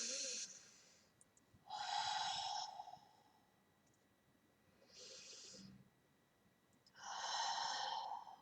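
Slow breaths during a reiki healing session: three or four long, airy exhalations close to the microphone, each lasting about a second, with quiet pauses between and no talking.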